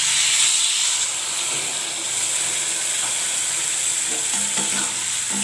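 Prawns frying in a pan as tamarind goes in, a steady loud sizzle and hiss with light stirring scrapes throughout.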